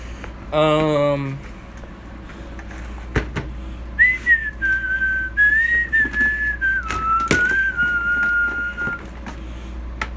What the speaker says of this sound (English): Forget my atrocious whistling.